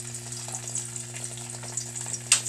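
Ham frying in very hot oil, a steady bright sizzle with small pops and a louder crackle near the end, a low hum underneath.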